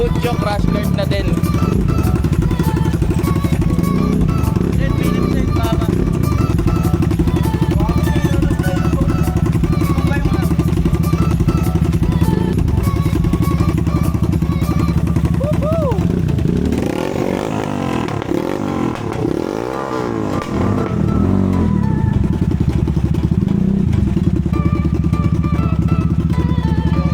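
A Benelli Motobi 200 Evo motorcycle idles close by with its aftermarket exhaust, a steady low engine rumble broken by a few sharp revs around the middle, while people chatter over it in a workshop.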